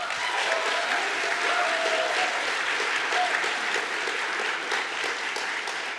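An audience at a Seattle City Council district debate claps in sustained, dense applause that fills the room at a steady level from start to finish.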